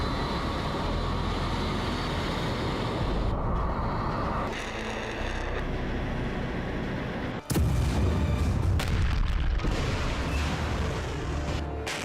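Heavy booming blasts from the bombardment of Kyiv, Ukraine, with a dense, continuous roar of rumbling detonations, a sharp break near the middle, then more loud, close explosions.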